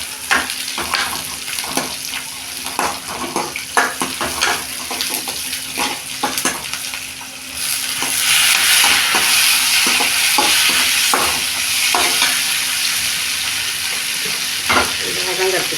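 Onions and tomatoes fry in a pan with a constant loud sizzle for an eggplant curry, while a spoon stirs and taps repeatedly in the first half before the sizzle swells and carries on steadily.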